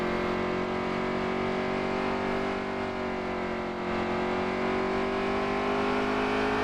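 Race truck engine heard from the onboard camera at Gateway, a loud steady droning roar with a slight dip in pitch through a corner before it climbs back, with no talk.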